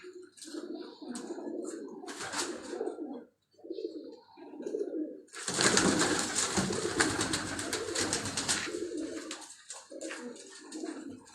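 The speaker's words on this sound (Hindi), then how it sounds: "ये हमारे अपने कबूतर हैं" Rooftop pigeons coo up close in short repeated bursts, broken near the middle by a longer flurry of louder wing and bird noise.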